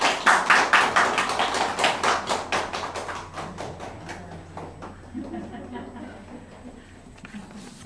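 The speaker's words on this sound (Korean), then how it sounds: "박수." A church congregation bursts into loud, rhythmic applause right after a prayer, the clapping strong at first and then thinning out and fading, with faint voices underneath.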